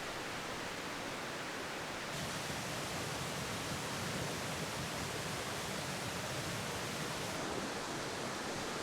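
Middle Fork Applegate Creek flows at a trail crossing, a constant broadband rush of water, close and steady, with no voices.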